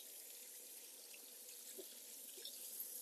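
Running water from a tap as a wig is rinsed under it, a steady soft splashing stream, faint and even, with small irregular splatters as the hair moves, no talk.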